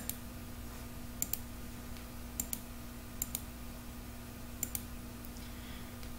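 Quiet double clicks of a computer mouse, four pairs spaced a second or so apart, over a faint steady hum.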